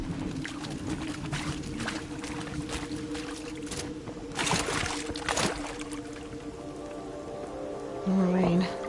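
Rain falling in the video game Horizon Zero Dawn, a steady hiss of drops and patter under a low ambient hum, with a few louder splashy bursts partway through and a brief tonal game sound near the end.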